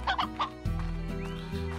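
Cartoonish chickens cluck in the video game Slime Rancher, a few short, close clucks followed by a low, sustained musical tone.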